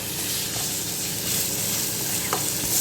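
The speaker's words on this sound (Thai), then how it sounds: "ใส่หมูลงไปผัดนะคะ อาจจะมีเสียงรบกวนนิดนึงนะคะ" Minced pork sizzles and hisses steadily in a hot pan up close, with occasional scraping from stirring.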